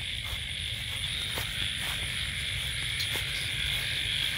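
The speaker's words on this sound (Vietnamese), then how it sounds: "Ếch nhại kêu rất là nhiều." Frogs croaking densely by a river at night alongside a high insect chorus, a continuous layered pulsing of calls with occasional sharper clicks close by.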